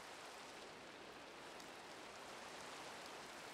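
Steady, soft rain hisses without a break in the game Minecraft, a continuous faint wash of falling water with no voices over it.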